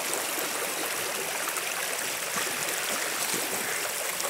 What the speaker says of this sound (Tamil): எங்கே பார்த்தாலும் மழை, அவ்வளோ தண்ணி